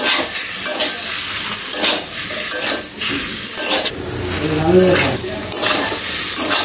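Taro (kochu) pieces fry with chili powder, turmeric and salt for a vegetarian curry, a steady close sizzle and hiss with intermittent scraping and knocks of a spoon stirring the pan.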